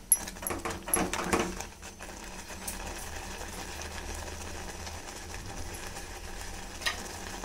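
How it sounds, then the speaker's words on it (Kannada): A spoon scrapes and knocks through a pundipalle mixture with chana dal in a frying pan, a cluster of fairly loud strokes at the start, then a quiet low frying hum with an occasional faint clink. "ಇದನ್ನ ಸ್ವಲ್ಪ ಮಗಚ್ಕೊಳ್ಳೋಣ್ರಿ"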